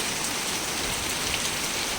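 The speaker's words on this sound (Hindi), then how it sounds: "जम्मू में ज़ोरदार बारिश हो रही है। ऐसे लगता है कि आज बादल का फटने का इरादा जम्मू में है, इतनी ज़ोर से बारिश हो रही है।" Heavy rain pouring down in Jammu during a storm, a dense, steady hiss of drops striking surfaces, loud and unbroken with no voices.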